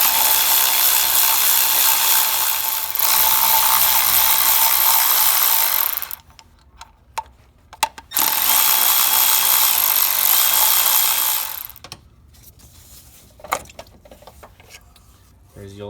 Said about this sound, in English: we can go ahead and take a 12mm socket and remove the 3 bolts holding on the thermostat housing